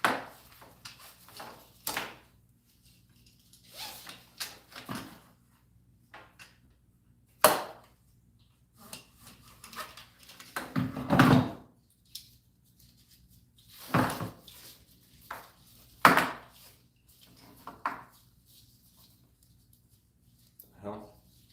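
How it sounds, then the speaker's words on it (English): Drawers in a home workshop are pulled open and shoved shut, a scattered series of sharp wooden and metal knocks and slides at irregular intervals, with a voice speaking now and then between them. "I think these two are going to go back in the drawer."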